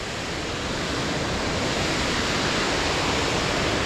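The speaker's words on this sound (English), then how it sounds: "Lots of water going across those falls today." Waterfall carrying a heavy flow of water along a trail, a dense, constant roar of rushing water, loud and steady with no breaks.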